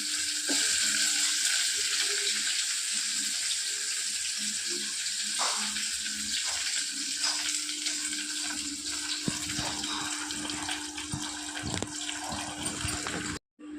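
Onions and curry leaves frying in oil with a little cumin for pepper rasam: a loud, continuous crackling sizzle fills the clip, with stirring scrapes and knocks in the second half before it cuts off abruptly.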